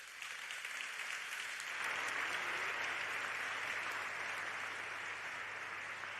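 Applause from a seated audience at an award gala for Hispanic American narrative, a steady wash of many hands clapping that grows fuller after a soft start and continues evenly throughout, slightly distant and roomy.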